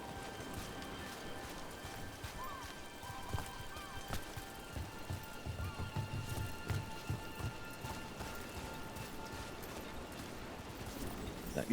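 Steady, soft rain in the video game Dragon Age: The Veilguard hisses and patters in the background with occasional faint thuds, quiet and continuous.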